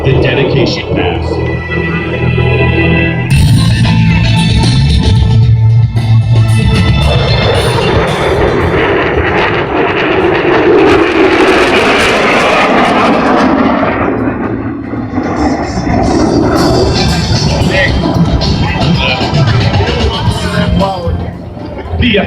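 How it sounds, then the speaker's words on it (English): An F-22 Raptor fighter jet roars through a dedication pass at the 2015 Tuscaloosa air show, a loud, sustained jet-engine rumble that swells and holds for about twenty seconds, with crowd noise beneath it. "from behind and to the right, the F-22 Raptor proudly presents the dedication pass."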